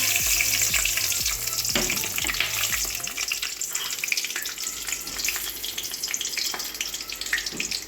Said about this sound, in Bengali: তারপরে দিচ্ছি গোটা গরম মশলা, তেজপাতা